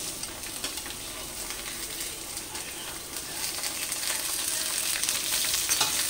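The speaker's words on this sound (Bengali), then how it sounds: "সবগুলো একসাথে এবার ভেজে নেব ভালো করে।" Carrots, beans, potatoes and pointed gourd fry together in a pan, a constant crackling sizzle that swells louder midway, with occasional stirring scrapes, heard close up and without speech.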